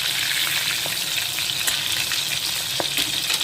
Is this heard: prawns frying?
yes